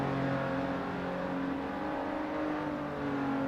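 A race car in a racing video game, set at Silverstone Circuit on the International Pit Straight, gives a steady, sustained engine drone that holds at an even, moderate level.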